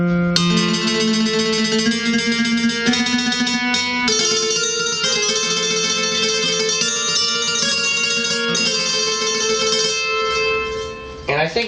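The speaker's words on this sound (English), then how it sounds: "This is what a mandolin trem sounds like." A Roland BK-5 backing keyboard's mandolin patch plays sustained, shimmering tremolo chords that change every second or two, bright and continuous with no voices.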